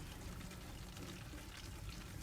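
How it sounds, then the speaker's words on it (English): Rainwater pours from a rain barrel into jugs, a steady, dense rush of running water that stays continuous and close throughout without any pause. "we fill up the water, and we'll fill these jugs up, and it doesn't take long"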